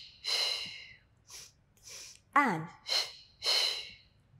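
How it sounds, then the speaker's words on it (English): Audible breaths, drawn in and pushed out in a slow rhythm during a Pilates mat workout, come as several breathy bursts close to the microphone, with a brief spoken word among them. "Inhale, exhale"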